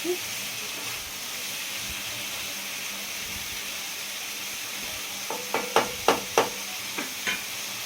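Chicken with turmeric, ginger and onions sizzles steadily in a pan while being stirred, with a run of sharp utensil taps against the pan near the end.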